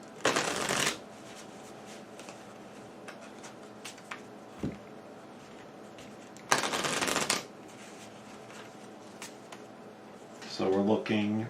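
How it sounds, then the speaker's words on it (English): Two quick riffle shuffles of the infection deck from the Pandemic Legacy board game, each a dense crisp burst of flicking cards about a second long, separated by quiet handling noises, with faint voices at the end. "I'm going to give that pile a couple quick shuffles"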